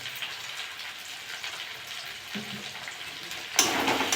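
Tilapia and taro pieces with coriander, cumin and salt stir-fried in a pan, a steady soft sizzle with faint scraping, ending in a louder crackling burst near the end.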